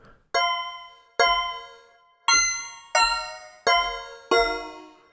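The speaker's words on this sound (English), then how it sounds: "so we're getting something much more like a bell-like percussive sound." Six bright, bell-like percussive tones from a Behringer Pro VS Mini vector synthesizer strike one after another, each ringing with rich overtones and fading before the next.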